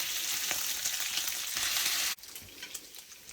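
Bacon frying in a pan, a bright steady sizzle that cuts off abruptly near the end, followed by quieter crackling pops.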